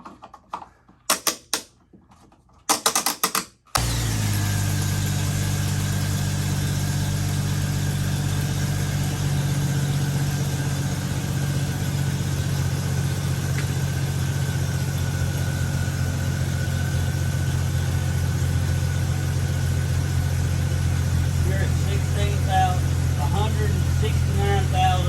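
A car engine cranks briefly with a few choppy turns, then catches and settles into a steady, close idle that runs unbroken to the end.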